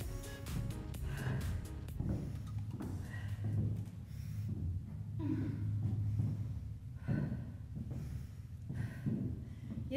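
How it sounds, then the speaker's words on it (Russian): Heavy, steady breathing after a fat-burning home workout round, with audible gasps and exhales repeating over several seconds and no talking. "Восстанавливаем дыхание."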